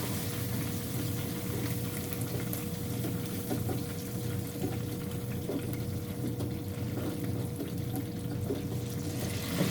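Steady stream of water poured into cornstarch for a gluten-free gravy, a continuous close trickling and splashing that holds level for about ten seconds with no talk.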